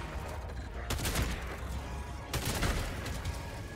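Crossbow bolts fire in Helldivers 2, two sharp bursts a second or so apart, each followed by a rumbling impact over a constant dense layer of game background noise.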